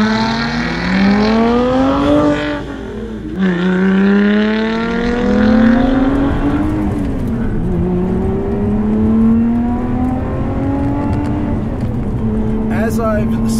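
A 2020 Lotus Evora GT sports car engine revs and climbs through the gears, the pitch rising and falling as it accelerates, loud and close throughout.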